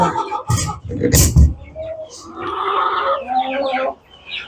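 Chickens on a ranch give several loud, close clucks and squawks, followed by a run of softer mixed clucking and chirping from a flock nearby.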